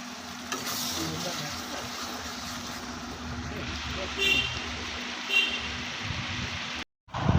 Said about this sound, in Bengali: দিয়ে পেঁপেগুলো দিয়ে মাংসটা আরও ভালো করে কষবো